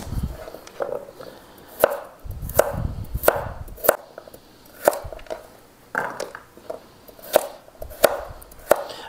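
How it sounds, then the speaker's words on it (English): Potatoes and other vegetables are cut on a board for roasting: sharp, close knife chops land roughly every half second to second in an uneven rhythm, with soft shuffling between strikes and no voices. "I try to cut my vegetables somewhat the same size."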